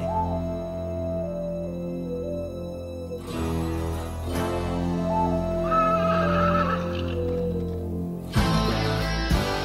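A cartoon horse neighs in a long, wavering whinny, followed by a second rising whinny and a sharp burst near the end, all over a music and effects bed.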